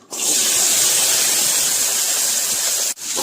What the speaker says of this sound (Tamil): எண்ணெய் நல்லா சூடானதும் இதில் சின்ன வெங்காயம் ஒரு அரை கப்பு சேர்த்திக்கலாம்